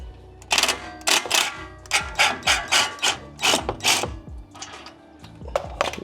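A ratchet wrench works exhaust bolts loose on a Toyota GR86, sending out rapid bursts of clicking in quick repeated strokes with short pauses between them, close and fairly quiet, with no talk.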